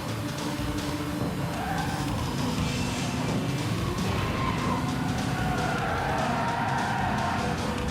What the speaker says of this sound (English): You can really hear the exhaust note of the car screaming through the night air.